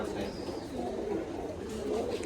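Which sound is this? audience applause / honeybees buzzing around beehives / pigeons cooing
pigeons cooing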